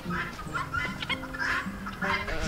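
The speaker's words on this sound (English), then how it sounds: "Look at those geese." A flock of geese on a farm honks and gabbles continuously close by, overlapping calls rising and falling with no pauses.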